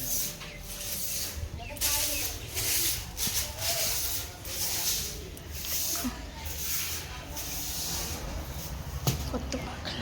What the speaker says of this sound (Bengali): তো এখন আমি ঝাড় দিয়ে নেব